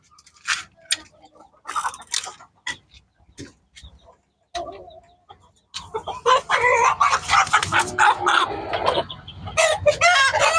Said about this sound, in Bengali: এটা হলো সিল্কি জাতের মুরগি